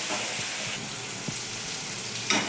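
Tamarind water hits a hot frying pan of chow chow (chayote) curry, giving a steady, close sizzle and hiss that swells briefly near the end, with no talk.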